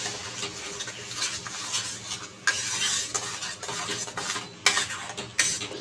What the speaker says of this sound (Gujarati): હવે તેમાં આપણે ટમેટાનો ગ્રેવી એડ કરી દઈશું. સરસ રીતે મિક્સ કરી લઈશું આપણું ગ્રેવી.